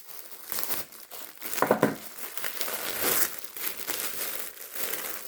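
Parcel packaging being opened with a knife: bursts of crinkling and tearing plastic and cardboard, close and fairly loud, in irregular rustling spurts with short gaps and no talk.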